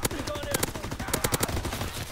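Rapid video game gunfire from a gun with no attachments in a team deathmatch, a fast burst of loud close shots repeating unevenly over about two seconds.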